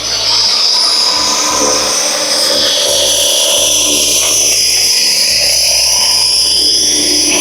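A Tarot 450 GPS drone landing on its own, its motors giving a loud, steady, high whine with shifting pitch that runs close and continuously throughout, no voices present.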